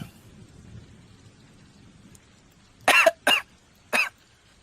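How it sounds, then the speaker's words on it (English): A woman in the water near driftwood coughs three times in sharp, close bursts while spitting up water. A faint rain-like hiss sits in the background. "You hear her coughing and spitting up water."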